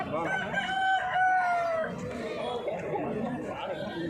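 A rooster crows at a busy poultry and goat market, one drawn-out call rising over constant crowd chatter and nearby talk, with more clucking and murmur after it fades.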